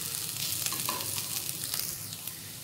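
Carrot pieces fry lightly in a pan for Gobi Manchurian, giving a steady close sizzle with brief stirring scrapes and no talking.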